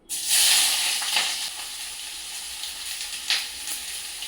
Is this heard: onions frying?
yes